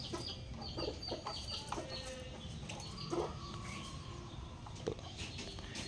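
A hen clucking in a farmyard, short scattered clucks and calls at moderate distance over a quiet, steady outdoor background.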